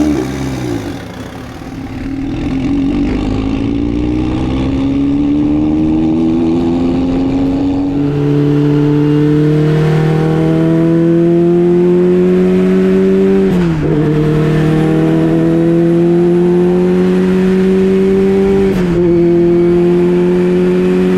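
Engine of the 1987 Porsche Fabcar 944 GTR race car of Team Electrodyne on a track shakedown at Summit Point, loud and close, revving upward in long steady pulls with brief dips at gear changes.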